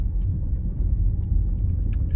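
A car driving on Bohol island, with a steady low engine rumble and road noise close by, continuous throughout, with no talk.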